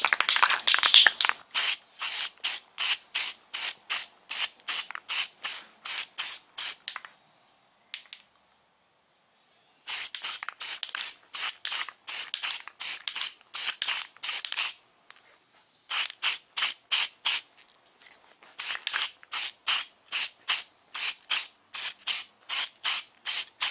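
Short rhythmic bursts of an aerosol can spraying clear truck bed liner texture, fired in quick hissing puffs in several runs separated by pauses, close and crisp.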